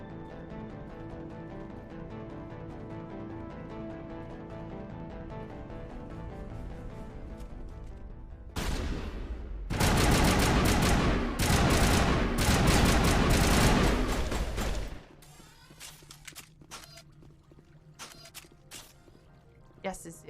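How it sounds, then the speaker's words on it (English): Gunfire in the video game Mass Effect, a dense burst of loud, rapid shots lasting several seconds in the middle, followed by sparser cracks, with game sound before and after. "Is the game really loud when we're shooting?"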